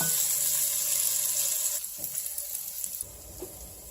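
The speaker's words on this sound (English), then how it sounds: "which will keep the skillet hot and yet still continue to brown my bacon" Bacon browning in a hot skillet on a kitchen stove, a loud, dense hiss of sizzling fat filling the whole moment, easing slightly partway through, close up with a few faint crackles and no talk.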